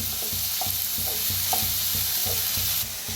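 Onion fries in a pan while being stirred for a dry dingri vegetable dish: a constant loud, close sizzle with regular scraping strokes of a spatula roughly twice a second, no voices.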